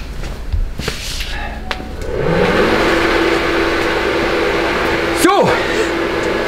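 Vespa PX 80 scooter engine fitted with a Quattrini 232 cylinder running on a dyno, a steady two-stroke drone that rises in pitch and holds, with a brief sharp revving sweep near the end.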